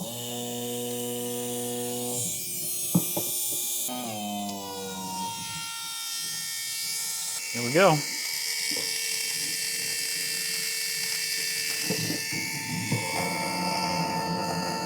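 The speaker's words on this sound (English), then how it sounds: "I'm just going to use it to suck the fuel out of the old tank." An electric fuel pump sucks fuel from the tank of an old square-body truck, a harsh, whining mechanical drone that shifts pitch and sputters as it draws, with a man's brief remark near the start.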